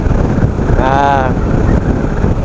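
Strong wind roars across a lavalier mic mounted in an open-visor motorcycle helmet on an NMAX ride, a dense, loud, steady buffeting rumble with a brief tonal whine in the middle and no talking.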